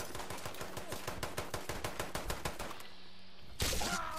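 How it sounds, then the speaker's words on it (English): Rapid automatic gunfire in Fallout 76, a steady stream of loud shots for about three seconds, then a short lull before a louder sustained burst of noise at the end. "I don't know what you're shooting at."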